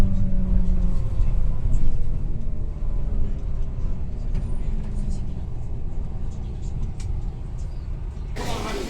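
Heavy traffic in a jam in Chongqing city, a dense low rumble of car and bus engines idling and creeping close by, steady and loud with a brief burst of noise near the end.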